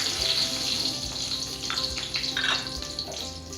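Fenugreek seeds and dried chilli fry in hot oil left over from frying potatoes, a close, steady sizzle and hiss running throughout with a few brief clinks and scrapes.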